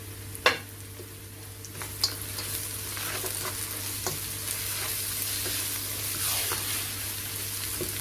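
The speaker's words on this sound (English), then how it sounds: "And I'm going to add my bay leaves and my cinnamon." Bay leaves and cinnamon frying in oil for chicken korma, a soft, steady sizzle with a low hum beneath and a few sharp knocks of a spoon stirring the pan.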